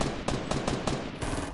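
Rapid automatic gunfire from Fortnite, a brief dense burst of repeated shots at steady rhythm, loud and close, with no talk.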